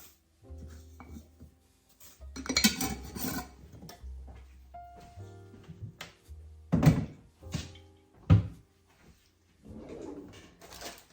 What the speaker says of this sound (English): now I'm going to mix this all up before I add in my oatmeal